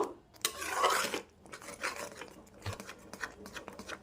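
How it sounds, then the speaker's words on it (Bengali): Punjabi methi kadhi made with besan is stirred in a pot, with a spoon clattering and scraping against the metal in a few close, uneven strokes. "বারে বারে নাড়িয়ে নাড়িয়ে করতে হবে"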